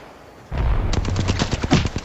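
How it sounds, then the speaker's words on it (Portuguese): Rapid bursts of gunfire from a first-person shooter video game, a dense run of loud close shots starting abruptly and continuing in quick irregular volleys. "para de atirar em mim"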